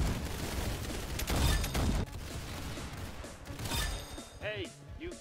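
Rapid bursts of gunfire in the Roblox shooter Arsenal, a dense rattling fusillade followed by scattered shots, heard under excited talk.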